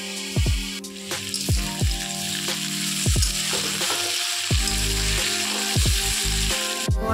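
Papaya pieces frying in oil in a pan, a continuous close sizzle broken by repeated spatula scrapes and knocks as the pieces are stirred, with no talking.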